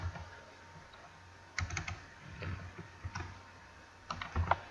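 Keys tapped on a computer keyboard while entering text in Photoshop, a few faint, quiet bursts of clicks separated by pauses.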